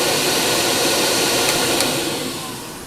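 A MetroVac Super Vacuum Blaster, an 8 HP blower, runs on an inverter with a loud, steady rushing whoosh. The sound is close and constant and eases off slightly near the end, with no talk.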